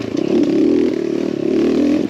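An X pro Templar 250 motorcycle, box stock apart from a Nibbi carb adjustment, runs steadily while ridden at about 1,000 feet elevation, giving a loud continuous buzzing engine drone with slight fluctuations in pitch and no talking.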